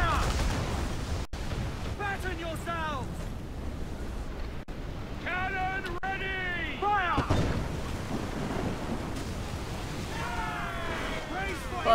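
Booming cannon blasts from sailing warships in Assassin's Creed 4 come out of a windy, ocean-like backdrop, with several heavy reports and whistling projectiles spread through the stretch under intermittent voices.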